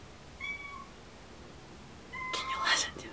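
A cat meows twice, a thin drawn-out call near the start and a louder, rougher one near the end, fairly close against a quiet room with faint background hiss.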